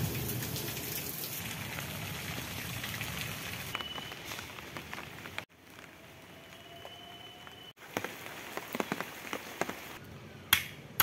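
Rain patters steadily on the tin roof of a village house, a dense crackling hiss with sharper individual drops tapping out toward the end.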